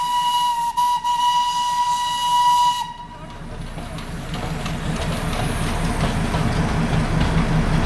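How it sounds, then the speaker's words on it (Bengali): The Darjeeling toy train pulls into Darjeeling station, its shrill steam whistle blowing loud and steady for about three seconds before giving way to a rushing hiss of steam and a low rolling rumble. "আমাদের ট্রেনও চলে এসেছে দার্জিলিং স্টেশনে"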